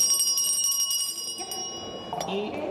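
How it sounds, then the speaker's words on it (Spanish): A bell rung repeatedly during a constitutional commission vote, a rapid bright ringing that rattles on for over a second before fading under voices and room noise. "sonó varias veces esta campana durante el proceso"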